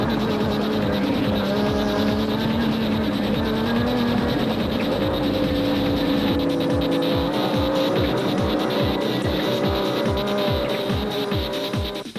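Race cars, including a 2-litre Nissan, speeding past on a circuit at a Nissan Dealer 400 event, loud high engine whines rising and falling with a rapid run of passing bursts toward the end and no talk.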